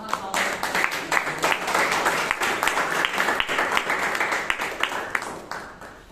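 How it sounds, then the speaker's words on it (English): An audience at a Toastmasters club meeting in Bangalore gives a round of applause for the tag team players: many hands clapping in a close, continuous patter with sharp individual claps standing out, and a few voices mixed in. "let's give a big round of applause to our tag team players"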